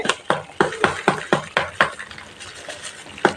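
Navratan korma curry is stirred in a pan over low heat, with a rhythmic series of close spatula scrapes and taps over a soft sizzle that slows and fades toward the end.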